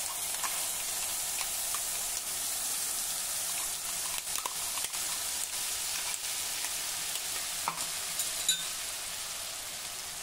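Peanut paste sautéing in hot oil with mustard seeds and cumin, a soft steady sizzle with faint occasional pops and light stirring scrapes, fairly quiet and close.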